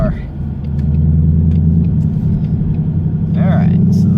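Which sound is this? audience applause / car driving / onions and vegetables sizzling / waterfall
car driving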